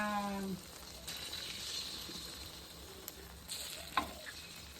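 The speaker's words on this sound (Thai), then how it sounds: "ชะอมทอดไข่ จะทำให้มันเป็นแผ่นบางๆ" Thin sheets of cha-om leaves in beaten egg frying in a pan, giving a soft, steady sizzle with a few faint scrapes and taps, quiet and close.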